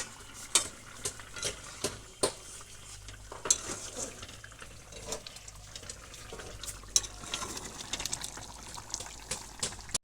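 Food being stirred in a cooking pot on a home stove: a steady run of scraping, clinking strokes of a spoon against the pot, close and fairly even in rhythm, with a faint background hum.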